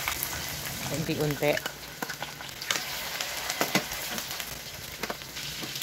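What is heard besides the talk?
anchovy omelette frying in hot oil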